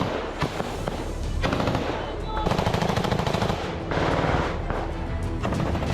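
Heavy gunfire in an attack on a Russian soldiers' post near a village, sustained bursts of rapid automatic fire and scattered shots, loud and echoing, with brief pauses between volleys.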